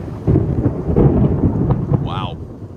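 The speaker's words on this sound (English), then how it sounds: "It is pouring down rain." Pouring rain with rumbling thunder outdoors in downtown Mount Dora, Florida, a dense, loud, steady roar that fills the whole stretch, with a brief high chirp near the end.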